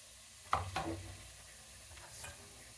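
Grated beetroot and carrot are stirred into hot ghee in a pan for halwa, two quick scraping knocks followed by a faint, low sizzle in a quiet kitchen with no voice.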